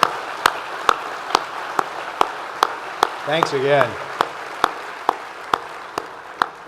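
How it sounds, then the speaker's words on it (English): An audience at a State of the City event claps for a jazz choir in a slow, even rhythm, with distinct claps spaced regularly. Someone briefly speaks over the clapping partway through. "One more round of applause for them."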